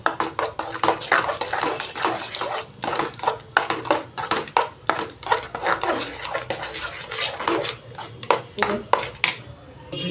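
A sugar and milk mixture for singpak is stirred in a pan, with repeated scraping and clinking of a utensil against the metal in a steady rhythm while a voice talks in the background.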